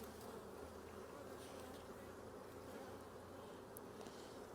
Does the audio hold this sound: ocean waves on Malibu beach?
no